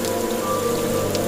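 Steady rain falls on a mountain hike up Gunung Arjuno, a dense continuous patter on surfaces close by with no voices.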